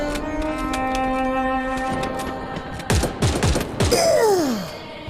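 Bursts of gunfire in the battle royale game Free Fire, several rapid shots and bangs after a sustained droning tone, loud and close.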